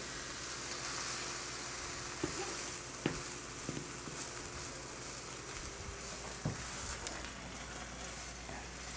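Grilled cheese sandwich with a cheese mix cooking on a hot pan, giving a steady, close, even sizzle throughout with a few faint clicks and taps on top.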